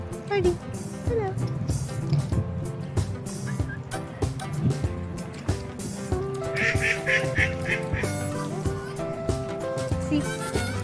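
Ducks at a pond quacking busily while eating scattered rice, repeated overlapping calls close by, with people talking throughout.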